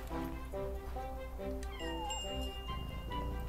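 A cartoonish cat meows repeatedly in the video game Yonder: The Cloud Catcher Chronicles, with short pitched calls over steady ambient game music, close and clear.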